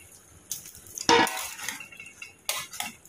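Fish slides into spiced masala in a wok, giving a sharp sizzle, then stirring clinks of a utensil against the pan and a second burst of frying, all close and without speech.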